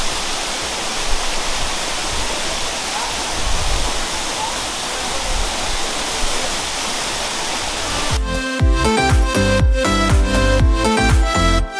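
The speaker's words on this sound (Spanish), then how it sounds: "está la cascada del silencio" The Cascada del Silencio waterfall in Antioquia pours with a loud, constant, close rushing roar, and music joins over the water for the last few seconds.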